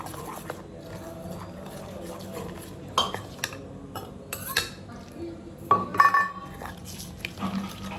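Besan flour batter with turmeric and salt being stirred in a bowl, a quiet scraping and clinking of a utensil against the vessel in irregular strokes, louder in a few bursts, with faint background voices.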